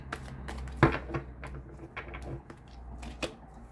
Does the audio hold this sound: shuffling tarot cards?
yes